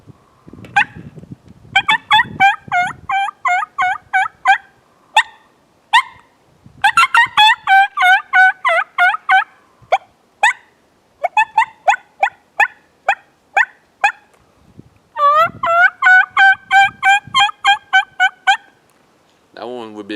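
A Beaver Creek 'Double Trouble' turkey call blown by hand, giving loud, high-pitched gobbling bursts in repeated rapid rattling runs with short pauses between, heard close and without talk.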